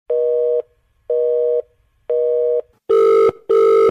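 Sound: phone call disconnected tone

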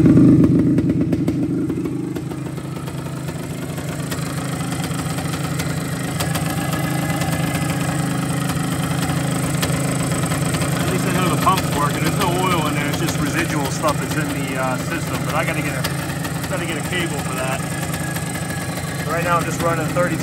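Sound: 1974 Yamaha DT360A motorcycle engine idling

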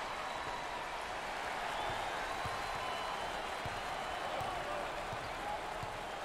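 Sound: basketball arena crowd cheering, NCAA tournament

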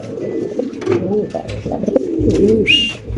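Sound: pigeon cooing

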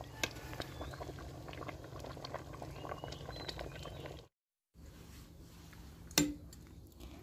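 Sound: curry with bamboo shoots and mushrooms boiling in a pot

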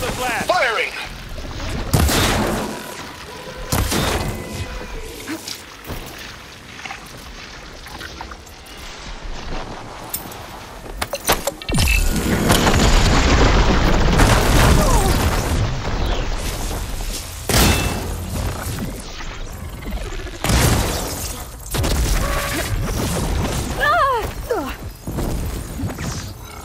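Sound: explosion and gunfire in the video game Horizon Forbidden West

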